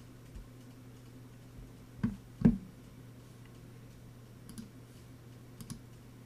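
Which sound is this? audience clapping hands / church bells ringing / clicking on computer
clicking on computer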